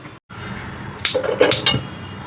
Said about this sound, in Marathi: आता कुकरचं झाकण लावते